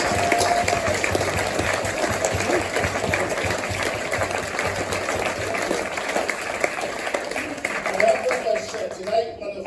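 Audience at a Burns Supper in Dundee applauds standing candidates, a dense, steady wash of clapping mixed with crowd noise and voices for nearly ten seconds, swelling slightly near the end.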